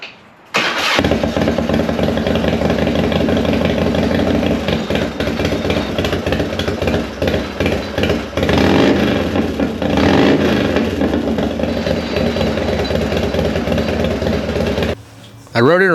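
A finished black chopper motorcycle fires up almost at once and settles into a loud, steady, lumpy idle close by, running continuously before cutting off near the end.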